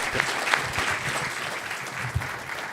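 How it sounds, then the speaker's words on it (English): A room full of listeners applauds journalist Jake Tapper after his talk, a continuous rattle of many hands clapping at moderate volume, with a few sharper claps standing out near the front. "How about another round of applause for Jake Tapper?"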